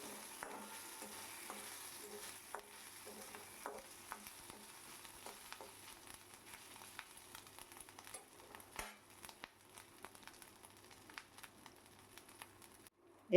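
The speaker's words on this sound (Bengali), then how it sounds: "এবার আদার কাঁচা গন্ধটা ছাড়া পর্যন্ত আমি এটাকে ভেজে নিচ্ছি।" Grated ginger frying in a little leftover oil in a pan, a soft steady sizzle with light crackles and occasional stirring scrapes, close and fairly quiet, no talking.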